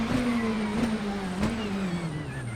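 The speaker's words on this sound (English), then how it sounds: "I'll slam hard on the brakes and span down the gears." A race car in Assetto Corsa brakes hard and drops down through the gears, the engine note falling steadily with sharp blips at each downshift, loud and close from the onboard view.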